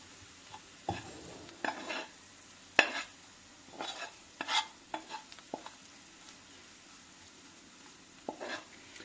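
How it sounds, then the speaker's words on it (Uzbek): A spoon stirring a sauce with red pepper in a pan with the heat off, giving soft intermittent scraping and light clinks, quiet and close, with a faint residual sizzle and no talk. "Bo'ldi mana, buni aralashtiramiz."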